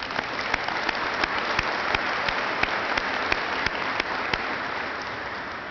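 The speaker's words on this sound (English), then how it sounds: "So let's give them a round of applause" An audience at an army change of command ceremony at Fort Lee applauds the army band, a dense, steady round of clapping with a few sharper claps standing out, sustained throughout at close range.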